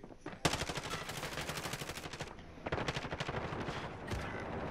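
Automatic gunfire in Call of Duty: Modern Warfare, with two long rapid bursts of rattling shots separated by a brief gap, loud and close, followed by scattered trailing fire.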